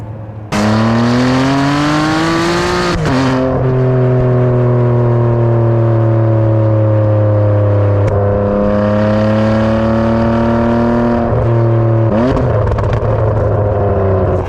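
A Ferrari 599 V12 engine roars loudly and steadily, pitch rising and falling as the throttle opens and eases, with a sharp exhaust note throughout that opens up around 4,000 RPM.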